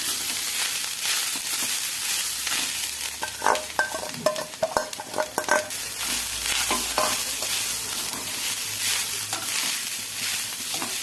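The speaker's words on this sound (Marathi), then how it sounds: "आपण आता तो त्यात घालूया आणि परतून घेऊया." Grated coconut is sautéed in a pan for rice-flour modak filling: a constant soft sizzle with a burst of sharp scraping and tapping stirs midway, heard close and without speech.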